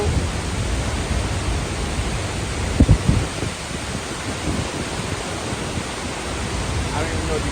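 Massive roar of Skogafoss waterfall in Iceland, a steady broadband rush of falling water that stays loud and constant throughout, with a brief knock or bump partway through.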